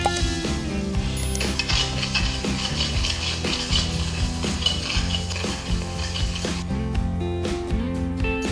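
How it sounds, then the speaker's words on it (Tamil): Chana dal and rice being dry roasted in a pan, with continuous scraping and stirring clatter of a spoon against metal, steady and close. "அடுத்தது கடலைப்பருப்பு வறுத்துக்கலாம் அரிசி வறுத்துக்கலாம்"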